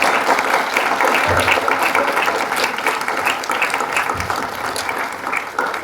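An audience at an honouring ceremony after a theatre workshop play claps continuously, a full, even roar of hands sustained throughout with slight swells.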